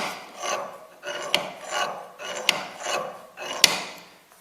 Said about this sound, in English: So I'm going to drill down through and tap these 3/8